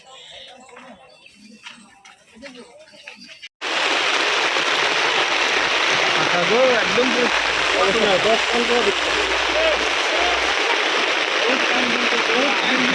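Steady rain pours down at an outdoor village market, a loud continuous hiss with spattering drops that starts abruptly after a few seconds of quieter bustle, while people talk throughout.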